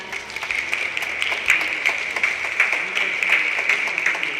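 Applause from an audience after a jazz quartet's performance at a Jeju peace forum event, a steady wash of clapping with some speech-like sounds mixed in throughout.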